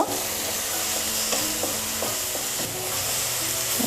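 Ginger and garlic frying in a pan with steady broadband sizzle and occasional stirring scrapes, close and continuous with no talk.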